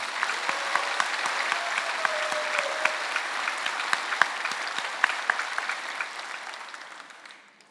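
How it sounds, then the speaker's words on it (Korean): A church congregation claps together to glorify God, a dense, sustained round of applause with a few sharper claps standing out, tapering off and fading to quiet at the end. "하나님께 영광의 박수 올려드리겠습니다"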